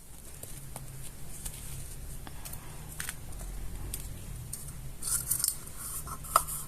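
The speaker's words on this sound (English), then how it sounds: "now let's cut the other part of the Yakult" Scissors cut through a plastic Yakult bottle, producing faint, intermittent snips and crinkly scraping up close, with a few sharper crunches near the end.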